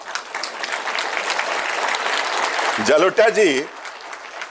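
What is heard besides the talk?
audience clapping at port golden jubilee event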